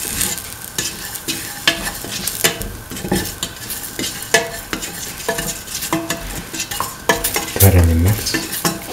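A spoon stirs spices into a kidney bean and potato stew in a pan, with repeated close scraping strokes over a constant sizzle and an occasional clink of utensil on metal.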